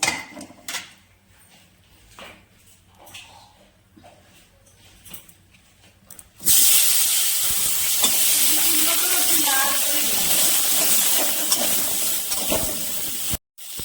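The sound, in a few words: cauliflower frying in oil in a wok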